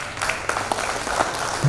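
Audience applauding at a 2018 Maithili literature award ceremony, a dense, steady wash of many hands clapping that holds throughout, with little talk.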